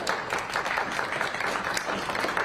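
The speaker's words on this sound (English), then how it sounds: "Let's give our panelists a round of applause." A town hall audience applauds its panelists with dense, steady clapping that holds at an even level from start to finish, with no voices on top.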